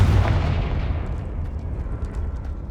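In Hogwarts Legacy, a Confringo spell explosion lands with a heavy, booming blast that hits hard at the start and then rumbles away over a couple of seconds, with no voices over it.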